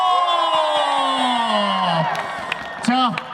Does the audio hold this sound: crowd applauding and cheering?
yes